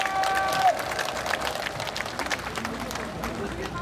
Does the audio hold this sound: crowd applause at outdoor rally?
yes